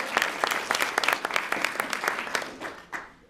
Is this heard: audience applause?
yes